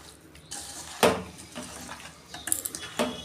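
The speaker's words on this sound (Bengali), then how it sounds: "এটাকে আমি ভালো করে মাখাবো।" Raw chicken being mixed by hand with salt and pepper for rice chilli chicken, giving soft wet squelches and slaps in a few short bursts at close range, with no talking.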